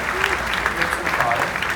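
Applause at a live comedy show in Hollywood, Los Angeles, with steady clapping close by while voices talk over it throughout.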